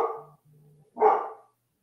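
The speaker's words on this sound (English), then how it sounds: "I believe that dog's doing that on purpose." A dog barks twice nearby, two short separate yelps with a faint low tone between them.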